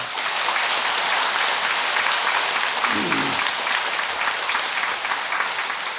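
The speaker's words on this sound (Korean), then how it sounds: "우리 박수 한번 쳐주시기 바랍니다" A large audience at a Buddhist Avatamsaka dharma assembly applauds steadily, a dense, even wash of clapping that holds for several seconds with a brief low voice partway through.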